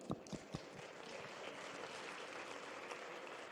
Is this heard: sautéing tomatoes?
no